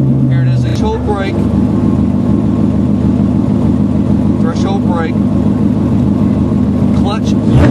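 A car engine runs steadily during threshold braking with heel-toe downshifts through a modified brake pedal, with brief rises in revs under continuous close talking.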